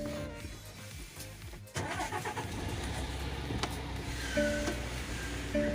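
A refrigerated truck's diesel engine cranks and catches, then settles into a steady rumbling idle, with a whining tone from the refrigeration unit rising over the running engine.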